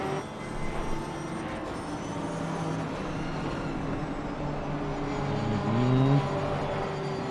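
Race car engine in Assetto Corsa Competizione at Imola, a steady loud drone with the pitch stuttering and warbling as traction control cuts in, rising toward the end.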